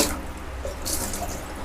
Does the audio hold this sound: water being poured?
yes